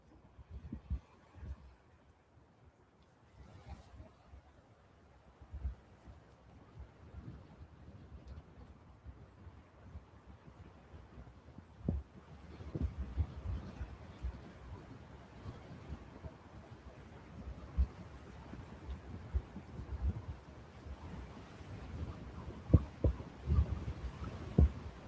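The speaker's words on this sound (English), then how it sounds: "Yeah, that wind is definitely getting stronger now." Strong gusting wind buffets the microphone at Newcastle International Airport, a low rumbling throb that swells unevenly and grows heavier and more forceful toward the end, with no talk.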